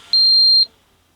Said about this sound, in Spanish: Eso indica que el zumbador está encendido y ustedes escucharon los pitidos que pegó recién.